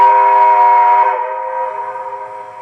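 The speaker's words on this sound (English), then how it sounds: "And the whistle." A G-scale model train's electronic whistle blows steadily and loudly, a bright chord of harmonics held for about a second before it eases into a softer, wavering tone that keeps sounding.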